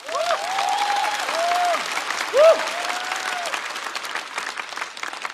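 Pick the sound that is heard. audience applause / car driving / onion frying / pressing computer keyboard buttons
audience applause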